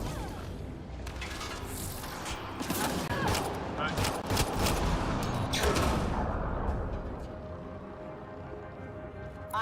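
Gunfire rattles through a firefight in the sci-fi game Mass Effect: Andromeda, dense bursts of shots and heavy booms clustered in the middle, with someone speaking over the battle.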